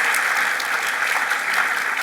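Steady audience applause at a national leadership summit, a dense continuous wash of many hands clapping that stays loud and even throughout with no voices breaking through.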